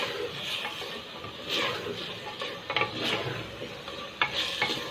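Beef qeema frying in a pan with steady sizzling and repeated scraping stirs of a utensil, close and moderately loud, with no talking.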